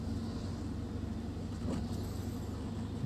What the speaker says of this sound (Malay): Sekejap, saya keluarkan kereta sekejap.